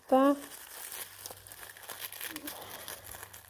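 A parcel of embroidery supplies being unboxed, plastic packaging crinkling and rustling close up, with a short voiced sound at the start.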